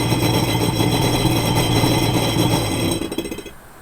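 An old jet ski engine with the choke off runs with a loud, rough, steady roar, then sputters and dies away near the end.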